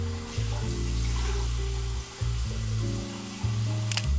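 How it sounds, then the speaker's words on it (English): Tap water running steadily into a bathroom sink during an evening face rinse, a continuous close splashing wash with a few shifts in flow and no talking. "now I'm going to give it a quick rinse"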